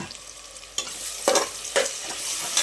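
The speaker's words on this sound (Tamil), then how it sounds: "2 கீரைன பச்சை மிளகாய், அது கூட நல்லா 2 கொத்து கருவேப்பில்லை சேர்த்து நல்லா வதக்கிக்கலாம்" Green chillies and curry leaves sautéing in a pan, heard as a close frying sizzle broken by a few scraping stirs from a spatula, short and without talk.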